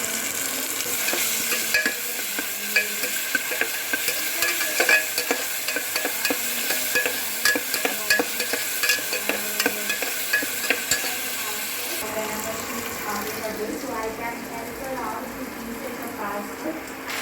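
Vegetables for a biryani are stirred in a pan with ground masala of coriander, mint, green chilli, ginger, garlic and lemon, making a steady loud sizzle and frying crackle with repeated scraping strokes, close up; the texture shifts partway through.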